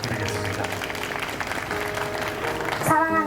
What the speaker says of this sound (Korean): 여러분 따뜻한 박수 부탁드리겠습니다.